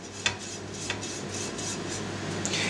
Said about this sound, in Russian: Раскалили сковородочку и чуть-чуть ее смажем, буквально совсем чуть-чуть, растительным маслом.